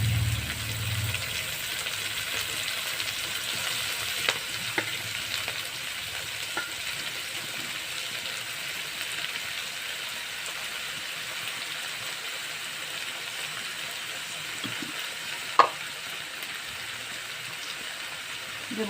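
Chopped greens (saag) fry in a pan with a steady, close, even sizzle and crackle lasting the whole stretch, with an occasional faint clink.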